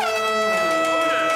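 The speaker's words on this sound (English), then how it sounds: "at least they don't have an air horn" A loud, sustained air horn blares steadily with a bright, harmonic tone that holds for the full moment without pause.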